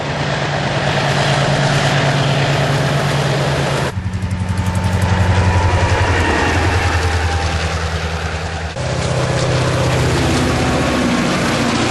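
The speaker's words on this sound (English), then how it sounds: "The narration may be switched to off so that only the train noise is heard" A train runs on a Queensland tropical coast railway with a loud continuous diesel engine drone and rail noise. The sound shifts in pitch twice as it passes, and no one speaks.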